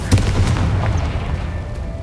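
A Confringo blasting spell exploding in the game Hogwarts Legacy, a loud, close, deep boom with a brief crack at the start and a rumbling tail that fills the short moment.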